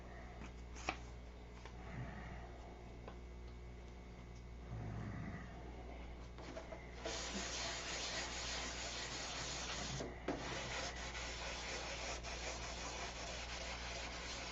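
Wet sanding with 1000-grit 3M sandpaper gives a continuous gritty rubbing hiss, strokes swelling and fading, louder and harsher through the second half.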